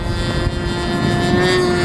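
A radio-controlled model airplane flies during a flight-training session, its small engine giving a steady, fairly loud droning whine that holds evenly throughout with no talk.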